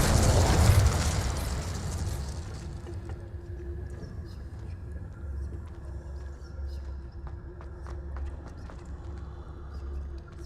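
A fiery burst from the Incendio spell in Hogwarts Legacy erupts loudly at the start, then fades into a low rumble with faint scattered ticks and crackles.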